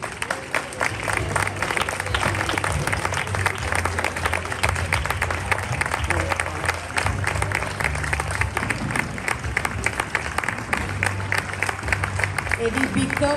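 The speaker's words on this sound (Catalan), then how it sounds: "al que rebem amb un fort aplaudiment" Strong, sustained applause from a concert audience welcoming the director of a community wind band at a music exchange event, dense and continuous clapping with a steady tonal hum beneath.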